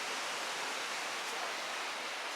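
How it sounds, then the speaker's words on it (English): Indian Ocean surf along the seaside below the old Dutch fort at Galle, Sri Lanka, a steady broadband wash of waves heard alone without a break, moderately loud and constant. "So behind me you can see the Indian Ocean."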